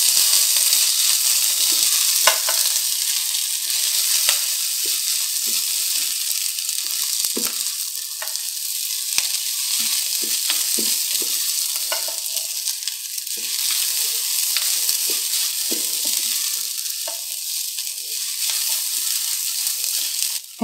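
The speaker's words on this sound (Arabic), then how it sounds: "هنزل الرز وازود شويه زيت كمان عشان يغطي كميه الرز والعدس كلها" Rice and lentils stirred in oil for Alexandrian koshari make a loud, continuous frying crackle with repeated scraping strokes of a spoon across the pot, heard without talk.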